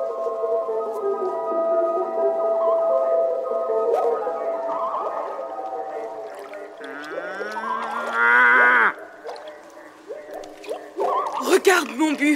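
Cattle lowing in the French animated Jungle Book, drawn-out moos that rise and fall over a background of tonal music and other sounds, ending in sharper bursts.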